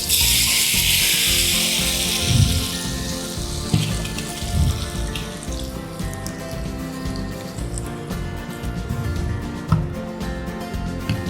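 Hot mustard seed tempering hits lemon pickle with a loud, bright sizzle that bursts at first and then settles into a softer, crackling hiss that keeps going to the end.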